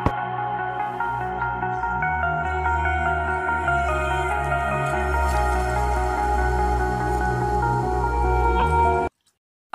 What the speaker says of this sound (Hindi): आज सुबह पानी भरने के साथ ही हमने नए घड़े की स्थापना कर दी।